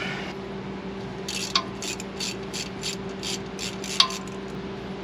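A ratchet wrench with a 10 mm socket removes the bolt of a vehicle's ABS sensor during an axle replacement, giving quick close clicking bursts over a steady background hum with two sharper metallic taps.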